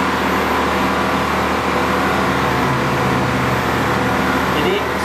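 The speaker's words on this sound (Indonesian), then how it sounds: "Suara mesin pun agak sedikit agak berisik ya, memang karena memang mesinnya AC itu agak kuat" A Total Fitness TL 29 AC semi-commercial electric treadmill runs at its top speed of 18, its AC motor giving a loud, steady whirring drone with belt noise that holds constant throughout, with no voices over it.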